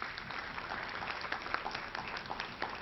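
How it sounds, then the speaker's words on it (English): Audience applause at a national health research conference, dense steady clapping from a crowd, fairly faint and continuous throughout. "Can we have another round of applause?"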